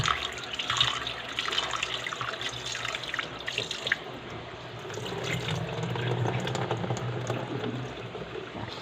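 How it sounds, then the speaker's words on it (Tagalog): Meat is washed under a running kitchen tap, a steady close splash of water hitting and flowing over it, shifting in tone as the pieces are handled. "Hugasan na ang karne."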